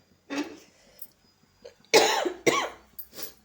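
A series of close, harsh coughs, a few short bursts spaced unevenly over a few seconds with brief quiet between them.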